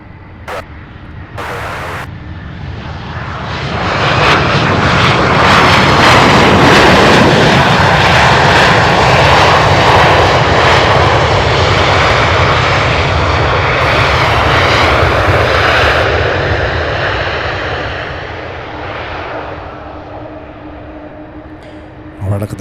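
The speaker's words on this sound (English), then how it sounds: "So we are getting aircraft in the back there" Roar of aircraft engines at night at the UPS Worldport cargo hub, SDF airport, a plane building to a loud sustained rumble and then slowly fading, with someone talking over it.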